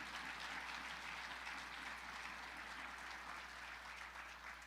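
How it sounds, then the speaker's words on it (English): Dense, steady applause from a large crowd at a political rally, continuous clapping that fills the room for several seconds with no pauses. "See that little tyke up there clapping?"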